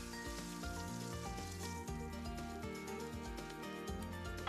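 Ahi tuna steaks sear on a Big Green Egg grill, giving a constant dense crackling sizzle. It holds steady from start to finish, with no voices.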